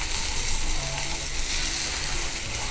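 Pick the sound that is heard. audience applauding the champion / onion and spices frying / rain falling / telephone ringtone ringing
onion and spices frying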